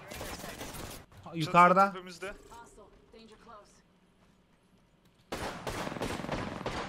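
Gunfire in the video game Apex Legends, a few distant crackling shots and a louder burst at the end, heard between and under Turkish speech.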